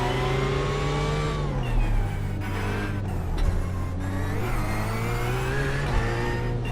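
A GT3 race car in iRacing pulls away from the pit lane, its engine holding a loud, steady drone with pitch shifts as it builds speed, close and continuous with no talking.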